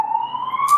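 An ambulance siren near a hospital, a single sustained wailing tone slowly rising in pitch, fairly loud and close, with a brief noisy burst near the end.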